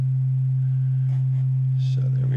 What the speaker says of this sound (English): this is starting out by a sine wave